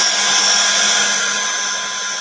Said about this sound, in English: No, you definitely can't heat gun a plastic bauble.